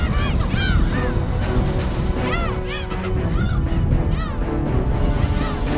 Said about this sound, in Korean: 이른 밤 무리지어 이동하는 철새들은 더없이 좋은 표적이 된다.